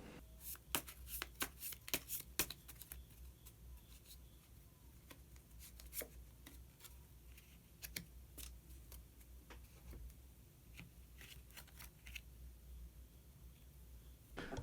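Oracle cards shuffled and drawn for a final pick, a run of crisp riffling snaps and soft flicks in uneven bursts, close and fairly quiet over low room hum.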